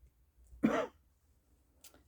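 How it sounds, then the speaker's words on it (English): A single short throat-clearing cough stands out against near silence, followed by a faint breathy rasp a moment later. "trying not to cough"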